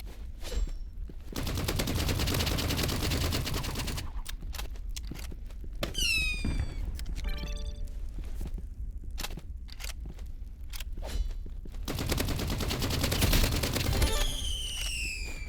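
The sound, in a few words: assault rifle gunfire in Roblox Rivals video game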